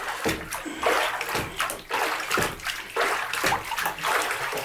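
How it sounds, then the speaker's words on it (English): A plastic Rubbermaid container is dunked, turned over and pushed down under water, producing continuous sloshing and splashing with rhythmic surges about every second, close and fairly loud. "I'm just going to dunk this thing, turn it over, push it down, and it is under the water"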